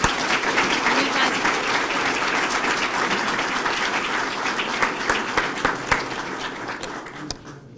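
Sustained audience applause at a police promotional ceremony, steady dense clapping throughout that grows sparser with a few louder individual claps near the end before fading out.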